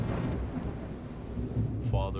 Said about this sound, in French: Il y avait du tonnerre.